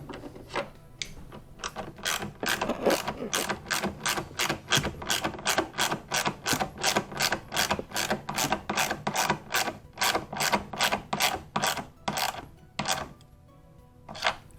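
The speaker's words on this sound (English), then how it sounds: "So I like to hand tighten it first and then come underneath with a ratchet." A hand ratchet tightens the drain pump housing on a Maytag MVW7232HW0 washer, clicking in a fast steady run of loud close strokes that pause briefly near the end, with no talking.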